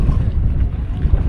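Strong wind blowing across a river on a boat ride, a dense low rumble of buffeting gusts against the microphone, loud and continuous throughout, with no voices.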